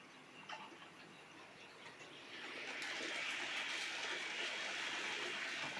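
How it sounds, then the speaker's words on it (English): A small model train runs along its track, the faint whir and rattle swelling into a steady, close rolling clatter partway through. "Well, at least we've got another train going round now."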